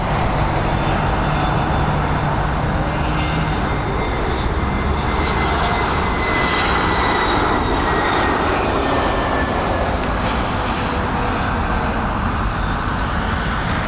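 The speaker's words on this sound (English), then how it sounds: "Pick up this 321neo on its landing." An Airbus A321neo airliner landing at Dublin Airport, a steady loud roar of jet engines with a broad rushing hiss that holds throughout, with no voices.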